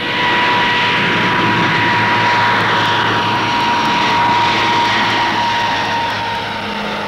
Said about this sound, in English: Another of 1959's newcomers is the Argosy Freighter Coach, a new design from Armstrong Whitworth for the rapidly expanding air freight market.